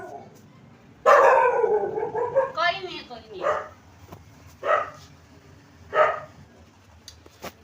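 Pet dog at home letting out a loud bark that trails into a whine, followed by a few shorter barks or yips, with a person speaking softly to it in between.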